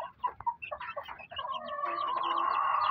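Three-week-old shamo chicks cluck and peep nearby, starting with several short separate chirps and building into a dense, continuous chorus of high calls.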